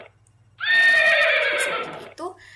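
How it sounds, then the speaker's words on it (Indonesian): A recorded horse neigh plays back as a long, loud whinny of about one and a half seconds, followed by a shorter snort-like tail, with faint hum beneath. "dalam hal ini suara yang akan ditimbulkan adalah suara kuda"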